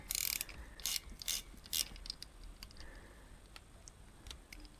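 A ratchet wrench clicks sharply in quick bursts while loosening a part on a Honda CX500C motorcycle under restoration, close and crisp, easing into lighter ticking and clicking.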